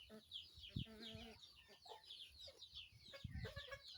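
Chickens cluck and squawk nearby in short, irregular bursts, with a few louder calls standing out against a quiet rice-field farmyard background.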